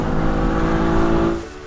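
A supercar's 7.3-litre petrol V12 engine revs with a deep, loud, harmonic-rich drone that holds steady up close before easing off in the final moments.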